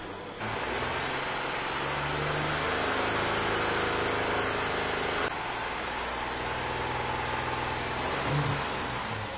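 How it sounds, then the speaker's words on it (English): Car engine held at raised RPM during a diagnosis of a vehicle running rich, a steady loud mid-pitched drone that stays high for the whole stretch, heard close with no talking. "Let's take a look at this when I increase RPM."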